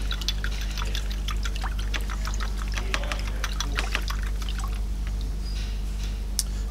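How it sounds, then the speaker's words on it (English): Fresh clean water is poured over the gold tip of a salt chlorinator's chlorine probe, making a steady close splash and trickle with scattered drips over a low constant hum. "what we're going to do is simply wash that away with fresh,"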